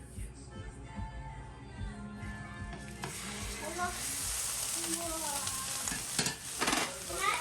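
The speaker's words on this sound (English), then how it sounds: "I'm going to add the oil, which is olive oil. Go ahead and add your ground beef." Ground beef fries in olive oil in a pan, a close sizzle that swells and thickens as it is stirred, with occasional scraping bursts over the hiss.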